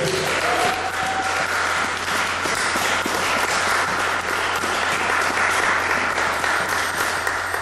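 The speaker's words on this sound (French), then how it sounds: "Est-ce que quelqu'un peut acclamer très fort pour le Seigneur?" A church congregation applauds loudly and steadily, a dense wash of clapping filling the room from start to finish, with a brief voice near the beginning.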